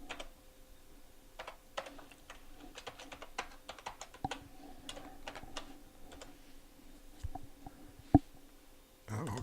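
Password being typed on a computer keyboard: a quiet, uneven run of close key clicks over about nine seconds, with a few louder taps near the end.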